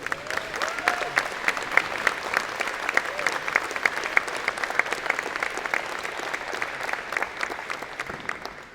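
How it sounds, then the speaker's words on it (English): Large convocation crowd at a university College of Engineering and Computer Science ceremony gives a sustained round of applause, dense and steady throughout, with a few faint voices underneath. "big round of applause."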